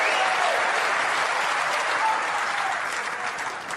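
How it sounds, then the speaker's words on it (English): A snooker crowd at the Masters final applauds steadily and loudly throughout, a dense, even wash of clapping that fades slightly toward the end. "Crowd getting ever more excited."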